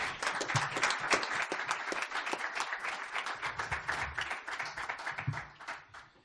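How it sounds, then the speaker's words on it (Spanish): An audience at a book presentation gives a steady round of applause, many hands clapping at once, fairly distant and even before tapering off at the end. "para quien les pido también un fuerte aplauso."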